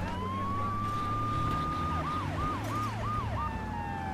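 Police car siren in a GTA 3 video game, a steady rising wail that turns into a rapid repeating yelp, loud and close over the game's engine hum and background music.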